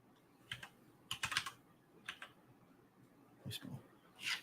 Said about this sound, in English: I didn't even have to keep typing.